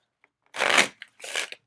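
A card shuffling machine for board games riffles a deck in two short bursts, a rapid crackling flutter of cards, close and crisp, separated by a brief click, with silence around them.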